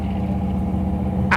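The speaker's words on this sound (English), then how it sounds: "I'm out driving the Bronco for our customers" A 1969 Ford Bronco engine while driving, a steady loud low drone with constant mechanical rumble, close and uninterrupted, with a brief rustle at the very end.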